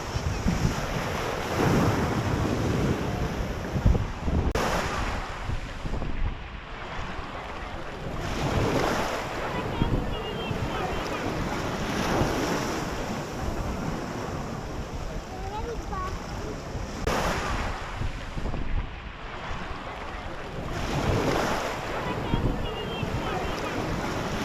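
Surf washing onto the beach at Cadaqués on the Costa Brava, a steady broadband wash with rolling swells and gusts of wind noise on the microphone, continuous and fairly close throughout.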